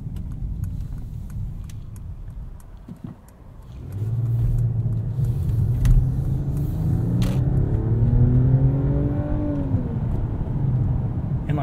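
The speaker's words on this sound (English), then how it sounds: "Inline six even sounds decent." From inside a 2022 Mercedes-Benz S500 4MATIC with an inline-six engine, a quiet idle hum swells into a smooth, rising engine drone as the car accelerates, staying fairly soft and refined.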